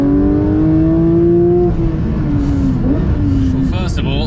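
A new Porsche 992 GT3 engine pulls hard, its tone rising smoothly in pitch, then dropping briefly at a gear change before climbing again, loud and close.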